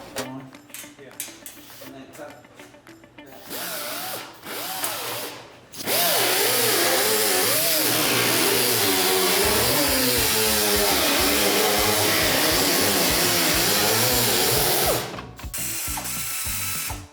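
A power tool cuts a sheet metal patch panel piece up close, with a loud continuous whining grind that runs for several seconds, starting after some short mechanical clicks and bursts.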